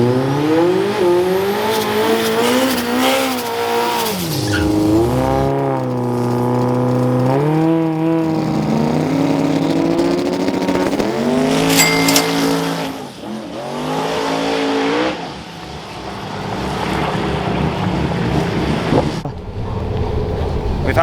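A drag race car on a Lexus-engined test pass roars loud and close, the engine stuttering and cutting out as if firing on only a couple of cylinders, revs rising and falling raggedly while voices talk over it.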